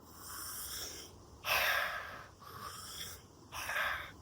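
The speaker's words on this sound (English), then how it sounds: "There is funnel breathing." Funnel-breathing breathwork exercise: a few close, airy breaths drawn and pushed out in separate rushes, with short pauses between them and no talking.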